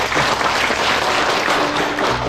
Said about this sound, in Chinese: 让我们用掌声表示感谢。